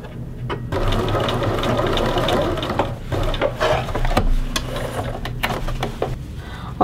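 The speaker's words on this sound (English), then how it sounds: "And we'll back stitch along this seam." A sewing machine backstitches a yoke seam on a men's shirt, its needle chattering in a fast steady run with brief pauses and clicks, close and alone without talk.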